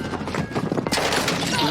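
A slow-firing gun in an online shooter video game pops off a string of rapid shots, followed by a denser, louder clatter of gunfire and impacts, with a voice talking over part of it.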